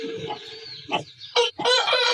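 An aseel rooster crows and clucks up close in a village farmyard, a few short clucks followed by louder bursts of crowing near the end, with no talk.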